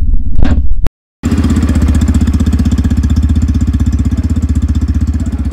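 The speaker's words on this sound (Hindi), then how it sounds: "इस बाइक की थोड़ा सा इंजन साउंड आप सुन लीजिए।" A Yamaha FZS V4 motorcycle engine idles, its exhaust putting out a steady, even low thumping pulse right next to the listener after a short burst of handling noise and a brief cut.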